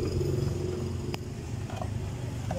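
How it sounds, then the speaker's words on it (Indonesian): A Honda Spacy scooter with a fuel-injection fault, sputtering and unable to rev, idles with a low, steady engine rumble nearby, and a few faint clicks are heard over it. "langsung aja tak nyalakan aja motornya"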